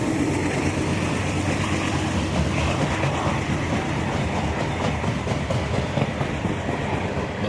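A CSX freight train rolls past at night on the Wildwood subdivision in central Florida, a loud, steady rumble with rhythmic clickety-clack of wheels over rail joints throughout.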